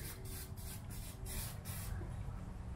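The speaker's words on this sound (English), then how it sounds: "We're going to spray some Specialized special Can-Am paint." Short hissing bursts of an aerosol can spraying paint on a Can-Am X3, repeated several times in a steady rhythm, fairly quiet against a constant background hum.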